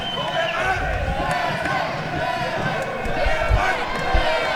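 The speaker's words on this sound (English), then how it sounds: "The crowd now starting to chant Bevan." A fight crowd at an XFC 30 mixed martial arts event roars and chants the name of local fighter Bevan O'Malley, a loud, sustained arena din with rhythmic shouting swelling and holding throughout.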